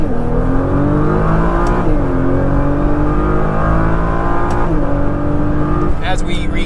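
A 2014 Nissan GT-R accelerates hard in a sustained pull from inside the cabin, its engine note rising through the revs with brief dips at gear changes, loud and continuous.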